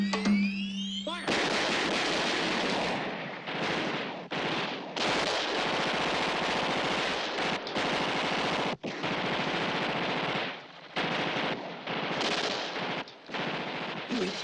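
Sustained, dense machine-gun and rifle fire from a 1978 Vietnam war film battle scene, loud and nearly continuous with brief gaps between bursts, shouted voices buried in the din.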